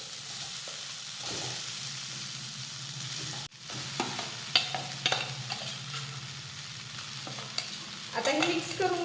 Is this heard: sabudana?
yes